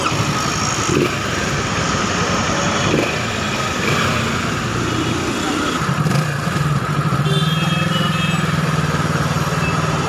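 A Kawasaki ZX-10R fitted with an Arrow full exhaust system runs steadily near the microphone, with a low engine rumble rising slightly toward the end and faint background activity.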